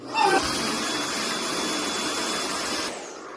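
A 2 m by 60 cm camping sleeping mat is inflated with a blower through a nozzle, giving a loud, steady whooshing whir that runs for almost three seconds and then cuts off.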